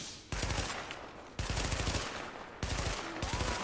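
Gunfire in the Xbox One shooter The Division: three loud, dense bursts of automatic shots, each starting abruptly and sustained for about a second, close and unmasked by talk.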